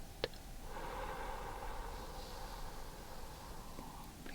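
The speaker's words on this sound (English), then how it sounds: "Let's breathe in, hold, and breathe out." A slow, deep exhale during a guided ASMR breathing exercise, a long soft breathy rush that rises and then fades near the microphone, preceded by a brief click, with no talking.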